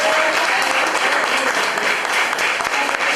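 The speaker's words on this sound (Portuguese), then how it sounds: "Uma salva de palmas para Jesus." Loud, sustained applause from a large church congregation, a dense continuous wash of clapping filling the room without pause.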